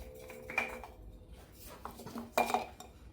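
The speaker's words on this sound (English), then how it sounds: "Let's cut this oil filter open." A used car engine's oil filter is cut open with a tool, giving scattered metallic scraping and clanking knocks with a sharp burst near the end, close by and alone.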